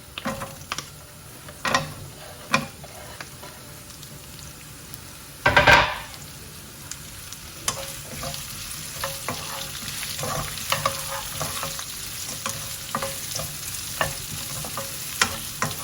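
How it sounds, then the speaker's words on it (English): Onions fry in a pan with curry leaves while cooking a peanut masala stuffed baby aubergine curry: a constant close sizzle broken by several sharp spoon scrapes and clatters against the pan, including one loud burst. "I'm going to throw in the onions and cook for 5 to 8 minutes, just lightly golden"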